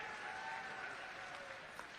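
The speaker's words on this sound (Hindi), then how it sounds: "जोरदार ताली बजाओ" Faint, steady applause from a crowd at a public rally, sustained evenly for a couple of seconds with a distant, diffuse quality and a murmur of voices underneath.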